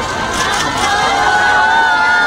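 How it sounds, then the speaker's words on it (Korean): A loud crowd cheers and shouts on a KBS Drama Awards red carpet as actors arrive, with sustained, dense noise from many voices and no clear individual speech. "큰 박수 부탁드립니다."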